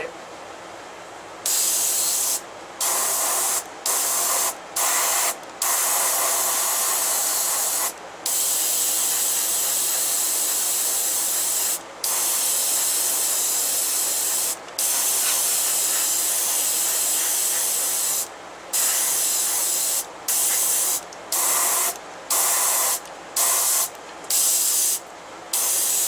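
Aerosol spray paint hisses onto a woodturned spinning top in repeated bursts, loud close blasts of a few seconds each separated by short gaps, with a steady spray sound dominating throughout.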